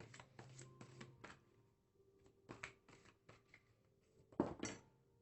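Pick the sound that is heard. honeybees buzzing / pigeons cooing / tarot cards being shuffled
tarot cards being shuffled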